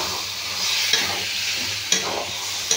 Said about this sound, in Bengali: মশলা ডিবাটা ধুয়ে একটু জল দিয়ে দেবো যাতে না নিচে লেগে যায়